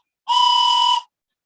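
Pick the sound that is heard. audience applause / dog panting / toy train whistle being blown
toy train whistle being blown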